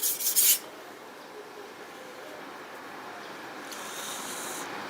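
A kitchen knife drawn across a whetstone: a brief bright scrape at the start, then a continuous, close, gritty rubbing as the blade is worked steadily over the stone.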